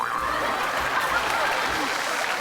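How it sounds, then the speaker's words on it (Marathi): Loud applause from a studio audience on a Marathi TV show celebrates a winner's cup being handed over, a dense steady clapping with a few chuckles under it. "जोरदार टाळ्या"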